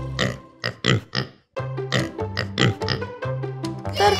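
Repeated close pig oinks and snorts in short bursts, with a brief pause partway through and a low steady tone behind them.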